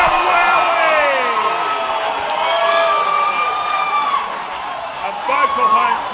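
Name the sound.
home crowd cheering after a goal at an AFL football grand final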